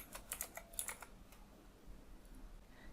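Quick, faint keystrokes on a computer keyboard while writing JSX code come in a short burst, then fade to quiet room tone.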